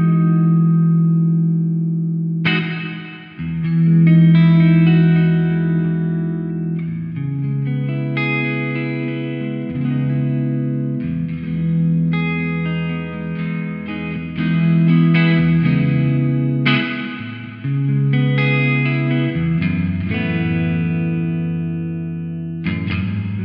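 An electric guitar played through a Two Notes ReVolt amp with reverb added rings out in sustained, distorted chords and notes, loud and continuous for the whole stretch with a reverberant tail and no talking.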